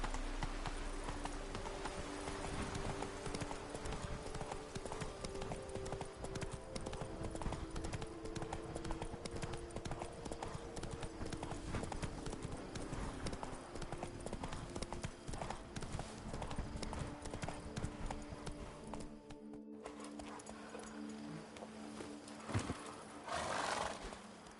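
The horse Roach galloping in The Witcher 3 video game, with rapid, continuous hoofbeats under a steady rush of movement, plus a brief whinny, fairly loud and close throughout before a short drop near the end.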